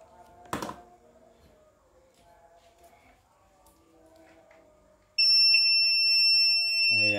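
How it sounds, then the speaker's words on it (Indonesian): After a few seconds of quiet clicks and handling, a mini 3-in-1 pump controller unit on a repair bench lets out a loud, piercing electronic beep that holds steady like an alarm. "kata customer itu dia bunyi tit aja gitu ya"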